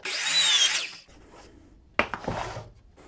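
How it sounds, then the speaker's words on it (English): A miter saw set to 45 degrees cutting a wood board: a loud whining spin-up and bite into the wood for about a second, quiet, then a second short rough burst of cutting noise. "So over here at your miter saw, you want to get it set to 45 degrees. Now let's take and cut the first end of this piece."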